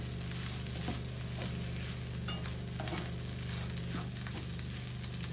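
Pak choi and egg fried rice tossed in a hot pan over high heat, a continuous close sizzle with repeated clicks and scrapes of the utensil stirring, no speech.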